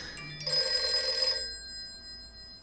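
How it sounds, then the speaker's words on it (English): A phone chimes with a bright electronic ringing notification tone, a short burst of layered steady tones that fades after about a second and a half, heard alone at close range. "My fault you hear like notifications."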